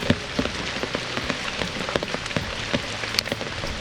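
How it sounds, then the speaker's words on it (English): Steady rain showers falling outdoors on a farm on a rainy day, a continuous close hiss of drops on surfaces with scattered sharper patters, no talking. "Nice showers of rain"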